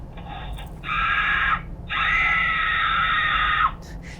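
A scream sound effect from The Exorcist exhibit at a museum: two long, loud, shrill screams in a row, harsh and lifelike, over a steady room hum, with a short gap between them.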